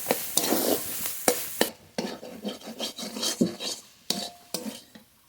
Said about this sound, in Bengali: নেড়ে নেড়ে ভালো করে এবার ভেজে নেব শাক